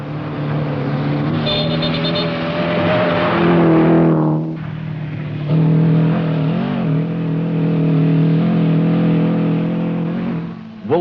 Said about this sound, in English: Engines regained full power at sea level, and the race to be first through the dust into Mombasa was on.